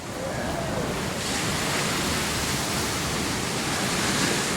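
Big surf at the Wedge, with 18-foot waves breaking close by; a steady, loud, broadband roar of churning water and spray that fills the whole stretch without a break.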